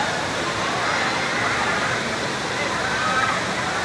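Taytay Falls in Majayjay, Laguna pours in a steady, loud, full roar of falling water, a broad constant rush that fills the whole moment without pause.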